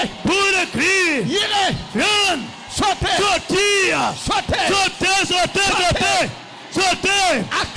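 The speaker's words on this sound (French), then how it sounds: "Poussez les cris." A crowd at a worship gathering yells and whoops in loud, overlapping bursts of shouting and cheering, rising and falling in waves throughout.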